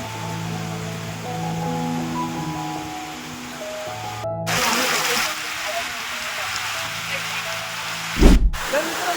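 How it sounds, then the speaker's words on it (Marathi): Heavy rain hisses steadily over the whole stretch at a temple stage in Ratnagiri, Konkan, while voices murmur and sing in the background; a sudden loud thump lands near the end. "बघू शकता पाऊस किती पडतोय"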